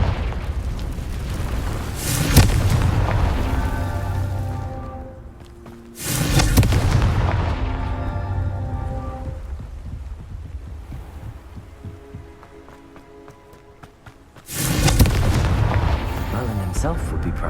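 Explosive spell blasts in the video game Hogwarts Legacy, three loud booming bursts a few seconds apart, each trailing off into rumbling debris and ringing game sound.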